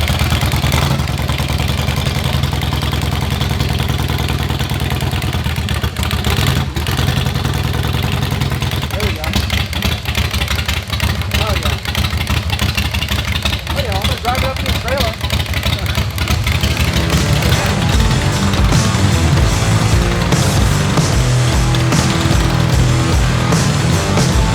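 A 1988 Harley Evo carbureted motorcycle engine fires up and runs with a loud, close, rough, pulsing clatter that settles into a steady idle, while someone talks over it.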